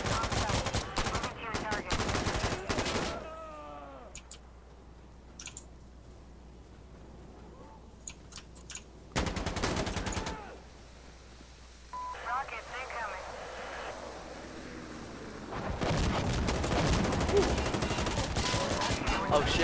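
Gunfire in the game Insurgency Sandstorm, several loud bursts of automatic fire in clusters separated by quieter stretches, with players talking over and between the shots.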